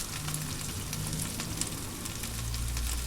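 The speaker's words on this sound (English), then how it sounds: "I'm just going to soften up those onions for a minute or two" Onions softening in peanut oil in a pan outdoors beside a wood-fired oven in pouring rain, a steady crackling sizzle with scattered pops and a low rumble beneath.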